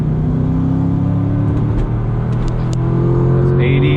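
Supercharged C6 Corvette accelerating hard at full throttle in third gear, a loud, steady engine roar with a rising whine that climbs in pitch, close and continuous from start to finish.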